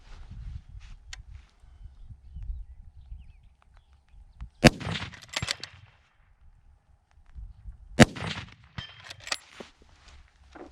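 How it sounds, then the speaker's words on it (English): Two sharp, loud rifle shots from a Bergara B-14 HMR chambered in 300 PRC and fitted with a three-chamber muzzle brake, fired outdoors at a range several seconds apart, each followed by a rolling echo, with low rumbling handling noise between them. "Follow-up shots are pretty dang quick."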